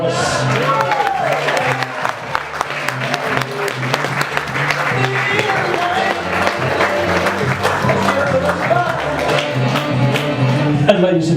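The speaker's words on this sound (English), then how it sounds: "And let's get the applause going, ladies and gentlemen, for Rebecca Grimson and Ethan Morris." Wedding guests applaud steadily for the newlyweds, a dense crowd of clapping with a few cheers, continuing for several seconds with some voices mixed in.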